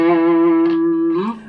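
Electric guitar through a Behringer TO800 Tubescreamer overdrive pedal, a single loud sustained overdriven note ringing with rich harmonics, then a brief pitch bend before fading.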